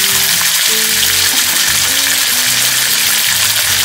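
Calf liver frying in a pan, a steady loud sizzle with crackling spatter running throughout, no voices.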